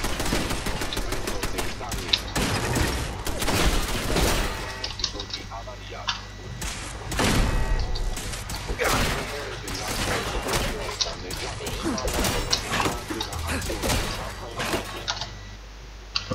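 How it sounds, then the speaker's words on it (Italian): Automatic gun turret firing in Fallout 4, rapid bursts of gunfire crackling through a dense, busy game soundscape with continuous background noise and overlapping impacts throughout. "Qui io attivo la torretta per così."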